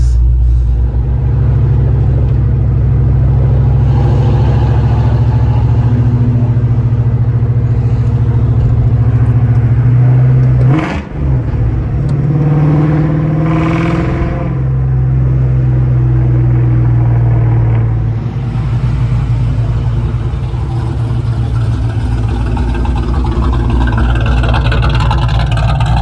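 A cammed, supercharged 2001 Mustang Bullitt engine rumbling steadily with a deep, loud low-end drone, a brief sharp transient near the middle and a slight swell in the exhaust note afterward.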